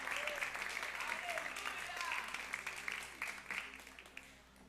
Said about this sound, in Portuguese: Então eu quero que você aplaude ao Senhor